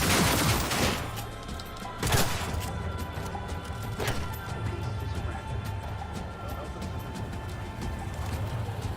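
Gunfire crackles in a video game, a few sharp loud shots near the start followed by a steady stream of rapid, moderately loud bursts over a busy background.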